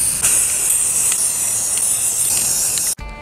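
An aerosol spray can hisses continuously at close range while khaki and dark green camouflage patterns of maple leaves and ferns are painted, then cuts off abruptly near the end.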